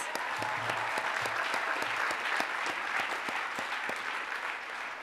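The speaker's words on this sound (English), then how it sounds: "And applaud them for everybody who's here, faculty and everybody else" Graduation ceremony applause for graduates from faculty and guests, a broad wash of many hands clapping with occasional sharper individual claps standing out, even and sustained at moderate distance, no talk.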